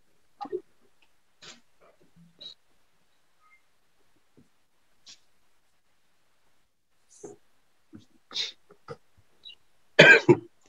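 A few scattered coughs and a throat clear during an online math lesson, closing with a loud, harsh cough burst near the end, with quiet pauses between.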